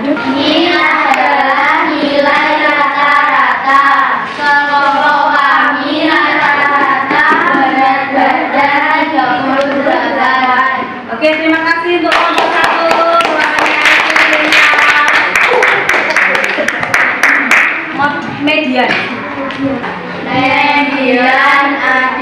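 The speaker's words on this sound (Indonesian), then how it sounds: "tepuk tangan untuk kelompoknya" Children in an Indonesian primary school classroom clap for a group of classmates, with bursts of clapping mixed into steady chanting and singing voices that fill the whole stretch.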